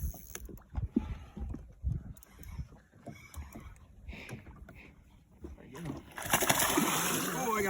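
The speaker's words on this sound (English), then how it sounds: "Oh, he almost jumped out of the net there." A hooked fish thrashes in a landing net during a Wisconsin multi-species fishing trip for walleye, pike and musky, a burst of loud, close splashing at the end after scattered talking and birdsong.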